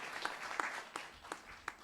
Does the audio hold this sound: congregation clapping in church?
yes